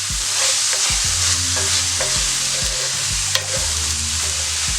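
Vegetables seasoned with black pepper sizzle loudly in a skillet, a constant hiss broken by repeated scraping stirs and one sharp clink of a utensil.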